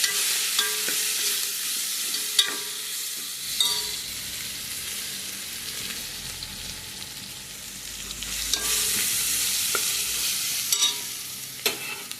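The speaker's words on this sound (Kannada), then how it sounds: "ಹಲ್ದಿ ಎಲ್ಲ ಹಾಕಿ ಒಂದು ಮಿಕ್ಸ್ ಕೊಡುವ" Curry being stirred in a pan after turmeric is added, steady frying sizzle with intermittent scraping strokes of a spoon against the pan, close and continuous with no talk.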